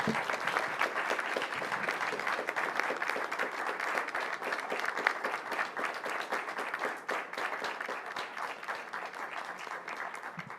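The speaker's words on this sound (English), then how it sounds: "A big round of applause for this team" Steady, sustained applause from an event audience honoring a team receiving an award, a dense wash of many hands clapping for over ten seconds, fairly distant and even, with no talking on top.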